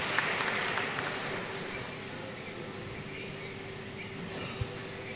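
Audience applause fills an air-conditioned hall at its inauguration in Thiruparankundram, Madurai: steady, dense clapping from a crowd that holds at an even level and fades slightly toward the end.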